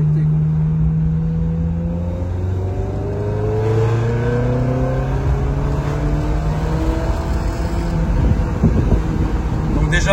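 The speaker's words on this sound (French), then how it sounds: "Parce que le son de cette voiture, on l'entend dans les tours." Sports car engine revving on a track, a steady loud drone with rising and falling harmonic sweeps as it accelerates, continuous throughout and close by.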